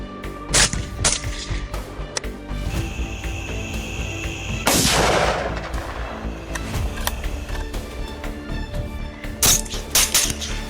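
Gunfire from a hunter shooting at a wild boar on farmland, several sharp cracking shots scattered through the clip with one loud, longer blast near the middle, reverberating outdoors with no talk.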